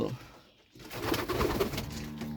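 After a short lull, racer pigeons coo nearby at a pigeon farm in low, throaty murmurs that continue steadily to the end.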